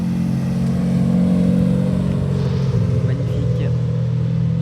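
A Corvette C8 at a car meet of American cars in Tarbes, a steady, close engine rumble that holds for several seconds, with voices talking over it.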